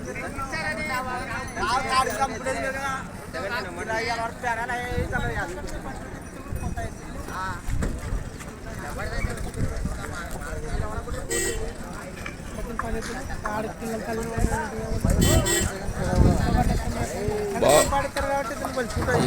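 Bulls' hooves clop irregularly on the ground amid a busy outdoor gathering, partly buried under continuous talk and crowd noise.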